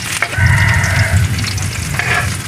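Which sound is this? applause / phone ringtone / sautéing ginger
sautéing ginger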